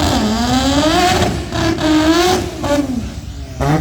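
A drag racing car from the Abbott Brothers Racing team at Meremere, engine loud and close, revving with rising and falling pitch through a continuous pass with a brief dip near the end.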